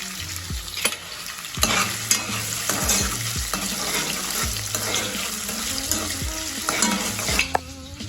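Food sizzles and fries steadily in a hot pan, with intermittent scraping stirs and clinks of a utensil against the pan, close and clear without any talking.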